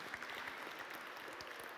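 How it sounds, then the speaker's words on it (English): Applause for the winning teams of a points contest at a live-streamed event, a soft, steady patter of many hands clapping, distant and faint, with no talk over it. "a big applause to the winning teams"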